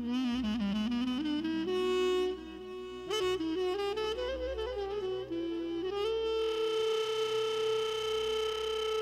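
A phone ringing tone plays as a run of electronic tones that step and slide in pitch, steady and moderately loud, with no talking over it.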